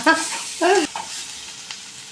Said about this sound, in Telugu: కుయిటాకు వేసుకొని ఇలా కలుపుకోవాలి